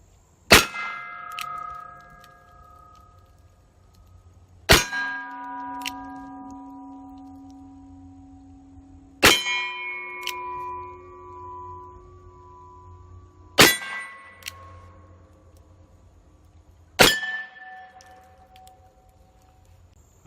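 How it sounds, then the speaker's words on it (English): Uberti Lightning double-action revolver, a Colt 1877 replica, fired at steel plates: five sharp shots spaced a few seconds apart, each hit ringing out as a loud metallic clang that decays slowly in open air. "I'm going to take another shot at the plates"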